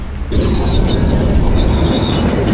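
A loud train rolls continuously past in Rome, near the Porta Maggiore gates, with a steady rumble of rail noise and wheels squealing high above it.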